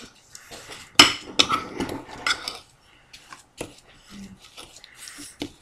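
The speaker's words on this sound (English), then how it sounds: "Just mix it all up." Sugar lip scrub being stirred in a small container, giving irregular clinks and scrapes of a utensil against the sides, loudest near the start and then sparser, close by, with no talk.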